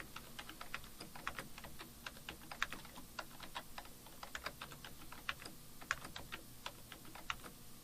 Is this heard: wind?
no